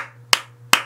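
Two sharp hand claps spaced about half a second apart ring out close and loud against a low steady hum.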